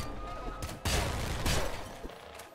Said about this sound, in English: some explosions going on down there